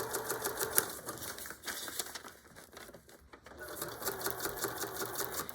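A sewing machine stitches a seam close beside a zipper, a quick, even mechanical rattle of needle strokes running nearly throughout, briefly slowing in the middle before picking back up, fairly quiet and close.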